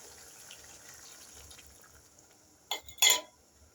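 Thin broth poured into a pan of vegetable curry with potato and green papaya, a short gush of liquid near the end after quiet cooking background.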